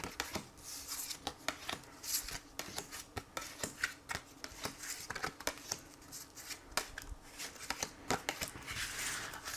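Tarot cards are shuffled by hand in a quiet room, giving a continuous run of soft, rapid riffling and flicking close to the listener.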